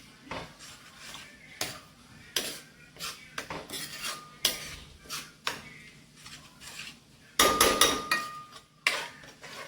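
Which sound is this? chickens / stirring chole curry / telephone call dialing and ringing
stirring chole curry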